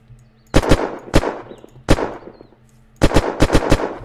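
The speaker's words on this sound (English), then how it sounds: "Oh, told you. Gunshots." Gunshots in the video game Wheels of Guns crack sharply and loudly in quick bursts of two and three, separated by brief pauses, each shot trailing off in a short echo.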